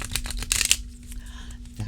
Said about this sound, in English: here's a first shuffle